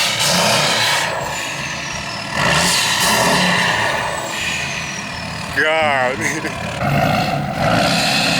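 A tuned, deleted Ford F-250 Super Duty diesel pickup engine revs up in several loud, rising bursts over a running idle, and a person speaks briefly between the revs.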